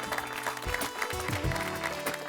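Studio audience applause at a Gokuldham Republic Day eve function in a Hindi sitcom, a steady wash of clapping at moderate level with some low rumble and background murmur.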